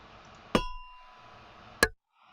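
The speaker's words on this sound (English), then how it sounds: "I will play a pair of sounds with different materials, metal and plastic, but the same action, tapping" Two separate taps, about a second apart: first a ringing strike on metal with a short lingering tone, then a sharper, drier knock on plastic. Both stand alone over a quiet background.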